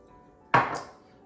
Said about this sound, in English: I just do a couple slices and chop it up